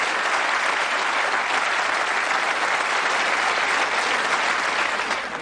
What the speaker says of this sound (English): Warm round of applause for our contestant.